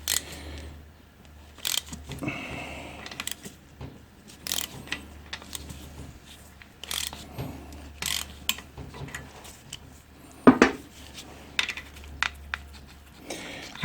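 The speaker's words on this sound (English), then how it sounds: "we'll just slide our drain pan across a bit" A metal drain pan slid across the floor under a Suzuki farm bike during an oil and filter change, giving a run of scrapes, clicks and clanks at close range with short pauses between them.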